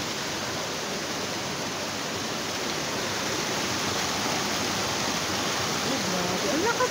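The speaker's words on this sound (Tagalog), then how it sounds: "Ang lakas ng tubig nila." Strong water rushes and churns at an inland resort in Canlaon City, a steady broadband roar with no pauses, fairly close, and a faint voice toward the end.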